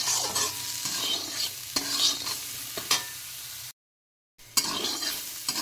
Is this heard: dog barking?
no